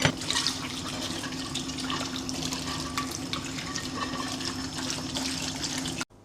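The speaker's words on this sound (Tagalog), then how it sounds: "hugasan muna natin ang ating mga pinagkainan" Dishes washed in a home kitchen sink under running tap water: a steady, close rush of water with faint clinks and splashes throughout, stopping abruptly near the end.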